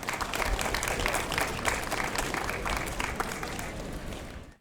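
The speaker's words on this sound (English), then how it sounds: "how about a huge round of applause" An indoor audience at a library's tenth-anniversary celebration applauds in a dense, steady wash of clapping that holds strong and then quickly cuts off.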